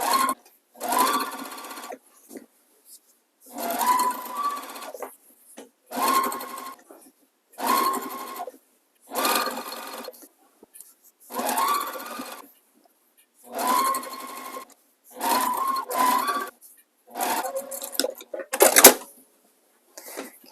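A sewing machine stitching binding onto a quilt runs in about nine separate bursts of rapid mechanical whirring, each lasting one to two seconds, close and fairly loud, with quiet pauses between them.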